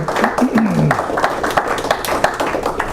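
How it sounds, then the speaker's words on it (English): Audience at a talk on religion and violence in America gives the speaker a round of applause, a close, busy patter of clapping with a low voice briefly heard early on. "John, if we can give Dr. Pahl a round of applause."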